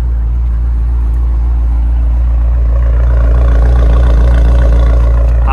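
A 2022 BMW M5 Competition with 617 hp idles steadily at close range, a deep continuous rumble from the exhaust with no talking.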